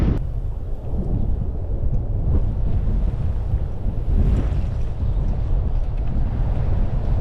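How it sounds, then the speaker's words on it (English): Strong wind buffets the microphone on a remote Australian coast, a loud continuous low roar with gusting surges and distant surf mixed in, steady throughout with no speech. "It is that windy right now"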